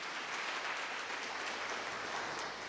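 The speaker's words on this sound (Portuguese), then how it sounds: "Dê uma salva de palmas para o Senhor Jesus." A church congregation at a Portuguese-language family worship service applauds in a steady, dense wash of clapping that continues throughout without pause.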